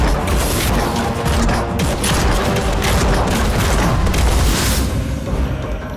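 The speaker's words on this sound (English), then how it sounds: "It fires a trio of smaller bombs simultaneously for less individual damage" Bomb cannon explosions from the online game Nosgoth, firing trios of small bombs: dense overlapping booms and crashes that continue as an unbroken loud barrage, with no one talking.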